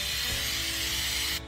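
One continuous hiss of canola oil cooking spray, close and steady for about a second and a half, then cut off abruptly.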